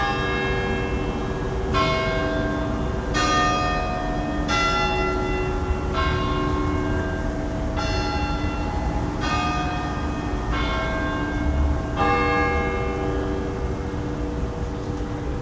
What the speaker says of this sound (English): I hear church bells, because I always want to capture the true sound of the bells chiming